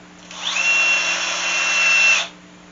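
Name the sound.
power drill driving number 8 screws into wooden loom frame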